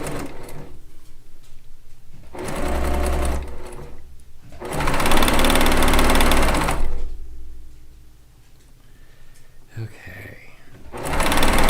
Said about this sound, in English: Gonna get our pieces all sewn together.